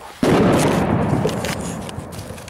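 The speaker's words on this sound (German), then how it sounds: "Da sind noch ein paar einzelne Knaller drin." A Celebration Cracker Kette XXL firecracker chain goes off on a New Year's Eve afternoon in 2015. A sudden loud bang opens a dense, sustained burst of rapid crackling pops that fades only slightly over the rest of the clip, with no talking.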